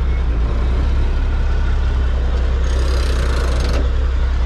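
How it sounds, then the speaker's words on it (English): Dump truck semi engine rumbles steadily up close, with a harsh grinding burst near the end as gears are forced into engagement; no talking. "I hate grinding the gears like that"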